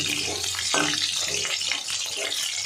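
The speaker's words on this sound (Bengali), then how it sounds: "দেখুন বন্ধুরা দ্বিতীয় ব্যাচের পকোড়াগুলো ভাজা হচ্ছে।" Pakoras for chili prawn deep-fry in hot oil, a dense close hiss and bubbling sizzle with brief crackling bursts throughout.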